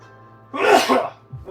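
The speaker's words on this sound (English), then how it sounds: "Oh, I gotta sneeze." A single loud, close human sneeze bursts out after a quiet moment, followed by a short breathy sound as it fades.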